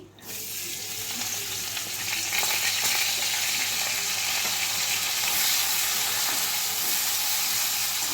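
Potato and eggplant pieces fry in hot oil for a Bengali mourola fish charchari, a steady close sizzle and crackle that runs unbroken from start to finish, with no talking.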